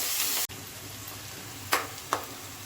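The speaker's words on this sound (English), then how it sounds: "cumin seeds, just little black cumin seeds. Now fry them together" Black cumin seeds frying in a hot pan: a steady sizzling hiss that drops softer after a moment, with two sharp popping crackles standing out near the end.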